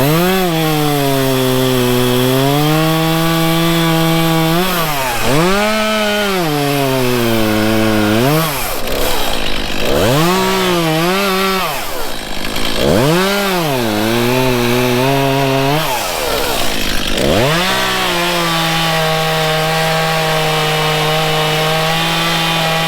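Chainsaw felling a tree outdoors: a loud, close engine snarls steadily, repeatedly dipping and revving as the chain bites into the trunk, with no talk.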